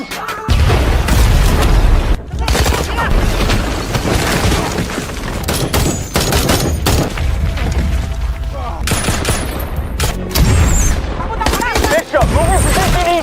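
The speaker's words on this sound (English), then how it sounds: "Abu Sayyaf responds with RPG attacks, which strike the team" Intense battle sounds from the action film Land of Bad: RPG explosions and heavy gunfire with booms and bursts of shots, loud and continuous and densely layered, with a few shouted voices mixed in.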